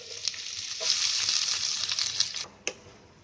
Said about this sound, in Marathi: आता त्याच्यामध्ये आहे ना कांदा टाकते.